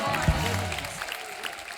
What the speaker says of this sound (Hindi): एक बार हमारी सर्कस की पूरी स्टार कास्ट के लिए जोरदार तालियां हो जाए।